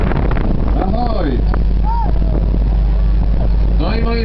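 A boat heading out to sea, its steady engine and wind rumble loud and constant throughout while voices and excited calls ride over the top.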